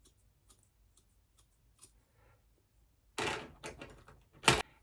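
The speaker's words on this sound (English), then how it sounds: "when you've cut that off, do the point cut upwards as well again to help with the blending" Scissors point-cutting layered hair at home, a few crisp close snips and short bursts of cutting after a quiet stretch, with a louder snip near the end.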